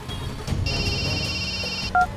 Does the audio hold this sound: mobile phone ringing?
yes